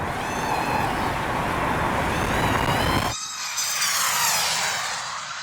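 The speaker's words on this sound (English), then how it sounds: "Where's that drone?" High-speed F1 racing drone whizzing past during a drag race against a Tesla Model S Plaid, a loud steady high-pitched motor whine that shifts sharply midway as it passes, then fades.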